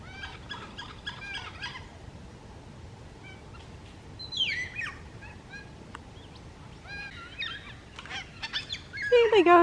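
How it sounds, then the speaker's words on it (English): Cockatoos calling along a boardwalk on the Bibbulmun Track in Western Australia, scattered harsh squawks and screeches rising in and out over steady outdoor ambience, growing louder and closer toward the end. "Hey, cockatoos."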